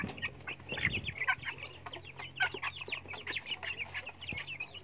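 A flock of young native chickens, about one month old, cluck and peep continuously nearby, a busy chorus of short chirping calls over a low steady background hum.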